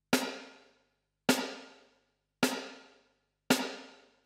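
Four single electronic drum kit hits spaced about a second apart, each followed by a long, smooth large-room reverb tail that decays into silence before the next strike.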